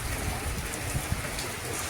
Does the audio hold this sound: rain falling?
yes